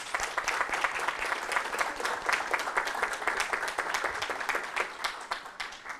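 Audience applause at an international sports and physical activity conference, a steady wash of many hands clapping for the full stretch as a speaker takes her seat, fairly loud and without talk.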